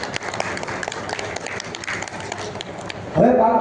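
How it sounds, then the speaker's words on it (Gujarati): Audience at a Gujarati business talk bursts into applause near the end, a dense wave of clapping that rises suddenly over a busy background of voices and movement. "સર્વાધિક જોરદાર તાળી થઈ જાય."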